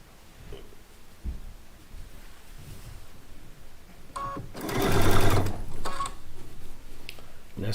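Charm pack squares chain-piece through a sewing machine in short, close bursts of rapid stitching, the loudest run in the middle, over a background of room noise and handling sounds.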